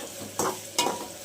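Onion, dried chili, bay leaf, tomato and ginger-garlic paste frying in a pan for a cauliflower and chicken curry, a steady close sizzle broken by two quick scraping stirs.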